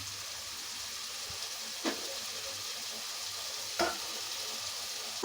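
Onions and chopped tomatoes cook in a pan for a prawn and gongura curry, giving a steady soft sizzle with a couple of brief scraping stirs; no one talks.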